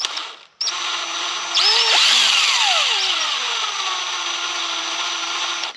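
A power drill whines loudly and steadily as the bit bites in during windshield work on a 1969 Chevelle, pitch dipping and shifting under load, after a brief pause at the start.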